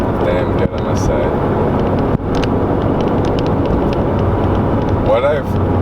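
A turbocharged Subaru Crosstrek's engine drones steadily from inside the cabin while driving, with road and wind noise and a couple of brief dips in the sound, someone talking over it.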